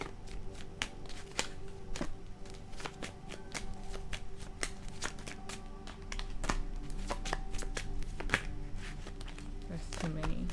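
Tarot cards shuffled by hand in a steady run of crisp riffles and slaps, close and continuous, with a voice talking faintly underneath.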